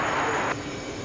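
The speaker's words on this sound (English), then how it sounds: "A330 from Amsterdam. Lighting up for runway. 22 left." An Airbus A330 jet from Amsterdam powering up on the runway at JFK, a distant broad engine roar that dips slightly halfway through, with no speech.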